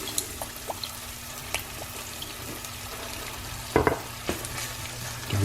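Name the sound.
stirring sizzling mustard and Worcester sauce in pan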